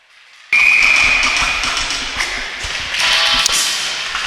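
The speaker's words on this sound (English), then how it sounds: "There goes the buzzer to end this one." Arena horn sounds at the end of an Atom AAA youth hockey game between Clarington and Whitby at Iroquois Park Arena: a loud, sustained buzzer tone, with rink crowd noise continuing under it.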